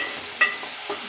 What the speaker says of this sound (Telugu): కరివేపాకు వేసి ఒకసారి మొత్తం తిప్పేసుకోవాలి.